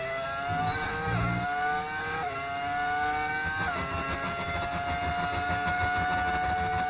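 Formula 1 race car engine in the F1 25 video game, a continuous high whine that climbs in pitch through the gears with short drops at each shift, steady and fairly loud.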